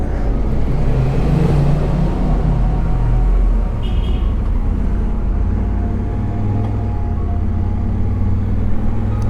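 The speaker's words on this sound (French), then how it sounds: "Elles rentrent un peu fort les voitures." Cars passing loudly on a narrow road in the Verdon area of Provence, a continuous heavy rumble of traffic close by, swelling and easing without pause across the whole stretch.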